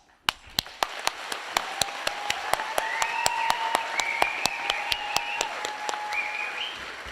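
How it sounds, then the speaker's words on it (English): A graduation audience applauds the class, sharp regular claps standing out near the mic over a softer crowd of clapping, with a sustained tonal sound rising and wavering in the background. "Please join me with your applause in celebration of this class."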